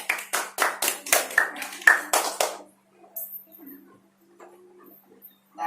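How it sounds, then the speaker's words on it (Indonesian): Applause in a classroom during a fourth-grade social studies teaching simulation: a burst of hand clapping for about two and a half seconds, fairly loud and close, then quiet room noise with faint movement. "Tepuk tangan."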